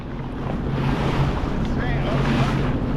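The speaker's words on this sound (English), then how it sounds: "It is crazy wavy out here, guys." Ocean swells and strong wind roar around a Sea-Doo on open water near Catalina, a constant loud rush of wind noise and surf with voices faintly mixed in.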